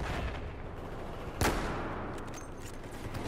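A single sniper rifle shot in a video game, fired while hard scoping as a recon class, one sharp crack midway over a steady noisy battlefield background, without talk.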